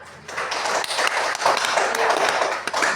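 Clapping in a school classroom after a student finishes reading aloud, a dense patter of many hands lasting about three seconds, moderately loud and fairly steady, with a brief dip near the start.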